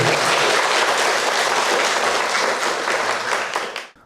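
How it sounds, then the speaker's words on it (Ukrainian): Audience applause at an intellectual patriotic quiz in a town council hall, loud, dense and continuous for about four seconds before tapering off sharply at the end. "Просимо оплесками підтримати наші."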